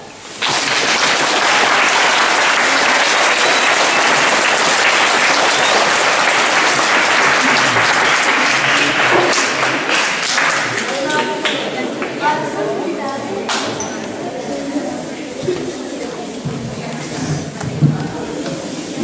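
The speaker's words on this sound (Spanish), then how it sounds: "quiero que le den un aplauso" School ceremony audience breaks into loud, dense applause for newly elected student officers, sustained at first then thinning into scattered claps with some crowd chatter.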